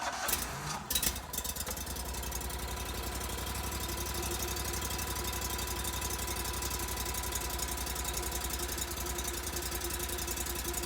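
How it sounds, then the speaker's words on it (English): A GatorTail 35GTR mud motor cranks briefly and catches, then settles into a steady, loud, close idle with an even rumbling throb that continues unbroken for about ten seconds. "So let's start the motor. Let's hear what it sounds like."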